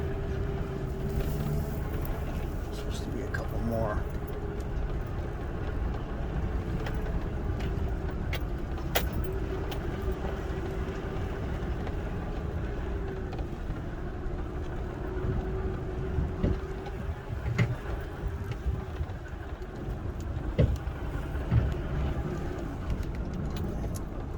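A car rolls slowly through a huge old salvage yard full of classic cars, its engine a steady low drone with faint rattles and occasional clicks and bumps throughout.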